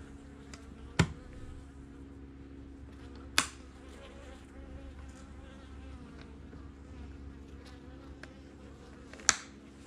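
Honeybees hum in a soft, continuous drone during a winter hive check, with a few sharp clicks and knocks standing out against the quiet buzz.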